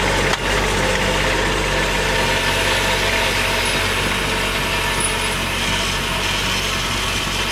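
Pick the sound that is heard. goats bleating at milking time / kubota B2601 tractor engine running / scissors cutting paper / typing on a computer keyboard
kubota B2601 tractor engine running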